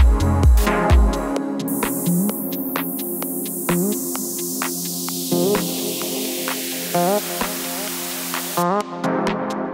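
Downlifter effect made in Ableton Live with Operator, VintageVerb and Auto Pan: a loud, reverb-washed noise sweep falls steadily in pitch over several seconds above a sustained tonal, pulsing synth bed, then cuts back in brightly at the end.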